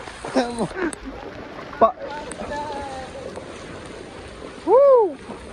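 Forceful floodwater rushes through flooded Chiplun, a steady broadband roar running beneath people talking, with a few louder bursts and wind buffeting the microphone.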